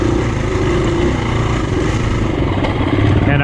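A KTM 350 dirt bike engine drones loud and steady while riding Ohio trails, its throttle rising and falling in a continuous close-up roar with no break.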